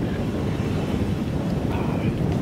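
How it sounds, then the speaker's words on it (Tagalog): Steady wind rushes and buffets against the microphone, a continuous broad roar with no pauses and no clear voices. "Sarap ng hangin dito."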